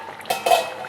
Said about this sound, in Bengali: ঢাকা সরিয়ে দেখে নিচ্ছি।